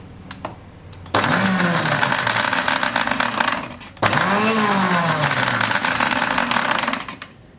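An electric mixer grinder whips mayonnaise in a dry jar, running in two loud bursts of high motor whine with a pitch that dips under load, separated by a brief pause, close and alone.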